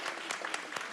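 An audience applauding at a public board meeting, a short stretch of steady, moderately faint clapping from many hands.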